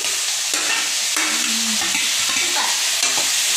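Two large tomatoes go into a hot pan for a horse gram saaru and are stirred. A continuous sizzle runs under repeated scraping stirs, loud and close, with no talking.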